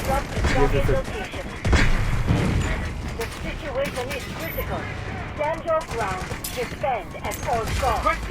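Gunfire in the Delta Force video game comes as dense bursts of rapid shots and heavier booms, with mechanical clicks in between, while a player keeps talking over the action.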